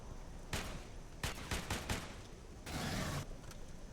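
Single-shot battle rifle fire in the sci-fi shooter Aliens Colonial Marines, a few separate sharp shots spaced irregularly, followed by a longer burst of noisy gunfire, all fairly quiet in the mix.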